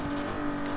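Engine of a Mercedes M1 car in Forza 6, a brief, steady, loud drone with a constant pitch, heard on its own.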